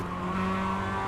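Mazda MX-5 tyres squealing in understeer at Oulton Park in iRacing, a steady strained whine over the car's constant engine drone, loud and close for about a second.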